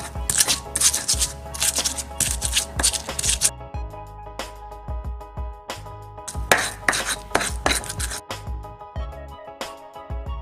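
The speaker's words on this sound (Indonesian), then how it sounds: "Ulek bumbu hingga halus." Spices are ground in a mortar with a pestle, giving bursts of close, rhythmic scraping and pounding strokes separated by short pauses, with a steady tonal hum running underneath.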